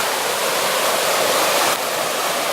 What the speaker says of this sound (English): another beautiful section of the little creek here